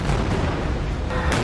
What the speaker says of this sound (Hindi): जबालिया कैंप पर हमास के ठिकानों पर तोप से भी गोले दागे गए।